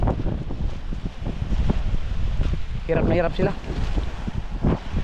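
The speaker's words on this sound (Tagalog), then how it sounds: "Malakas ang hangin" Strong wind blusters steadily around a boat on the water, buffeting the microphone with low rumbling gusts while a person speaks over it.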